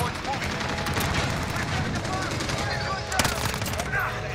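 Rapid automatic gunfire from a Finn LMG in the video game Modern Warfare, a dense continuous rattle of shots with a sharper burst near the end, while a player talks over the fighting.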